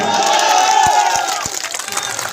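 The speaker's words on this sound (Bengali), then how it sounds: "নৌকার জন্য কত বড় তালি দিবেন" A large outdoor political rally crowd for the Nouka (boat) symbol claps and cheers loudly and continuously, with shouting voices rising and fading in a dense, near roar.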